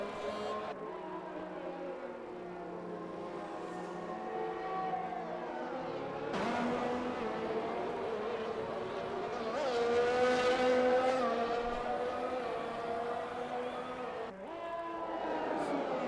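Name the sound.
Mercedes race car lapping in iRacing-style sim racing video game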